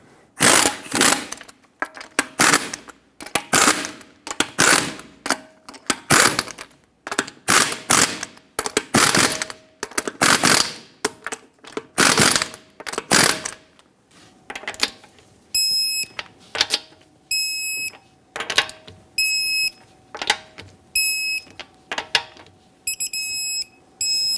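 A torque wrench tightens the front wheel lug nuts on a 2013-2018 Hyundai Santa Fe in a cross pattern, with repeated ratcheting pulls and, later, sharp clicks as each nut reaches torque.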